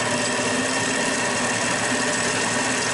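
A lathe makes a quick face cut to deburr a modified Moen cartridge puller, giving a loud, steady high-pitched machining whine that holds without pause.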